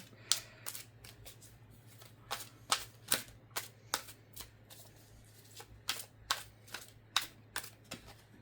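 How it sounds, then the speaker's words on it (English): A tarot card deck is turned over and handled, giving a steady run of crisp, close card flicks and snaps in an irregular rhythm, with no talking. "I'm going to turn this deck over."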